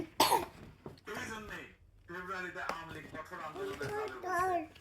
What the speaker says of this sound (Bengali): ওই যে কাশি হচ্ছে